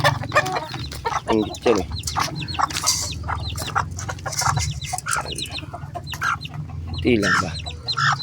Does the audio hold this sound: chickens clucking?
yes